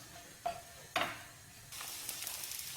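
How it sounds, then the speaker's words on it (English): Soft sizzling of onions frying in a pan, with a couple of clinks early and the sizzle growing brighter toward the end. "while the onions are frying"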